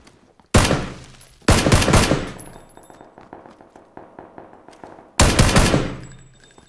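Gunfire in the battle royale game PUBG: three loud bursts of rapid automatic fire separated by pauses, with a faint tapping of lighter shots and clicks between them, no voices.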